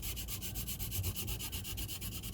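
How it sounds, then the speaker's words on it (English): Laser-cut wood gets light hand sanding in quick, even back-and-forth strokes, a steady rhythmic scratchy rubbing heard up close with no voices. "It just takes some light hand sanding."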